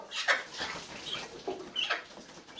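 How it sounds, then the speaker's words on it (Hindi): A hen clucks in a quick, close series of short, throaty calls with brief pauses, fairly quiet and alone. "मुर्गी बजै छै कुकुरुम कु"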